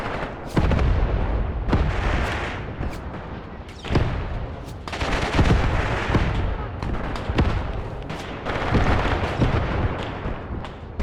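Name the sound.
artillery fire in video game Graviteam: Pivot Point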